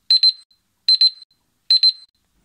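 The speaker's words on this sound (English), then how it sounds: "I had something in the oven and I had a timer on and it just went off" An oven timer alarm sounds in three evenly spaced bursts of rapid, shrill double beeps, loud and clear against silence.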